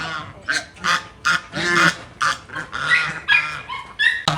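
A group of Chinese geese honk in quick, overlapping bursts, loud and close, with no pause between calls.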